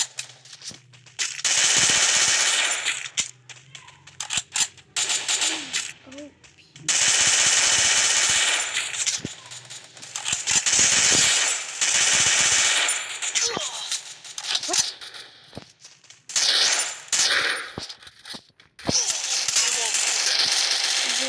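Loud, close bursts of rapid automatic gunfire in the video game Free Fire, arriving in several long volleys separated by short pauses.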